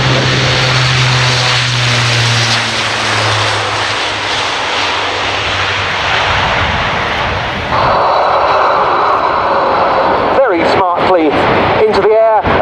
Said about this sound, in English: It is the Airbus A400M